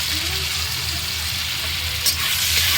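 Potato pieces fry in a pan with salt and turmeric, a loud, steady, close sizzle with an occasional clink of stirring.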